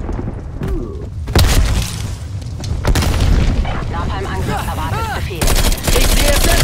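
Grenade blast in Call of Duty Black Ops Cold War multiplayer, heavy booms amid rapid gunfire and battle noise, with voices talking over the chaos.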